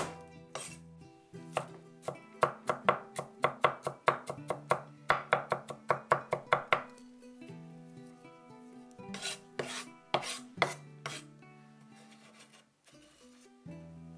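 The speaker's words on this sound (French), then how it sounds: "Je hache 5 gousses d'ail." Five garlic cloves being chopped with a knife on a board: a quick run of sharp, close knocks for several seconds, a pause, then a few more scattered chops, with no talking.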